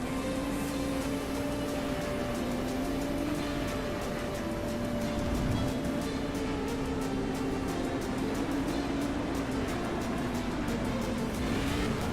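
A race car engine in a racing video game holds a steady, droning whine throughout, with constant mid-level road and engine noise and no clear revving peaks, heard alone.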